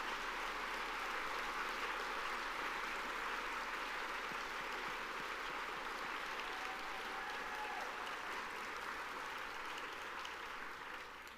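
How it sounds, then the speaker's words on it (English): Sustained applause fills the room at a service recognition luncheon as honourees stand at their tables. The clapping stays steady and moderately loud throughout, then tapers slightly near the end. "Gail, Patricia, Orlando, and Keisha, to stand for a round of applause at your tables?"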